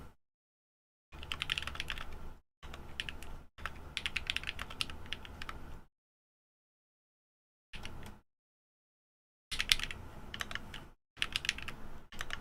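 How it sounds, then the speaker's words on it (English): Bursts of rapid typing on a Neo Ergo mechanical keyboard fitted with added foam, dense close clicks in several runs separated by short silent pauses. "at least the keyboard sound a little better."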